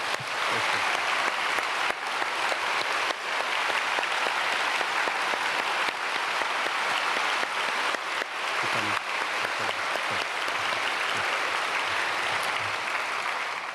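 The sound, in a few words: applause in church service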